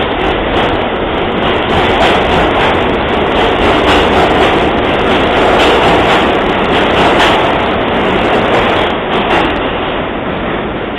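A New York subway train runs loud and continuous at Nevins Street station, a steady heavy rumble with rail rattle and faint clicking wheels.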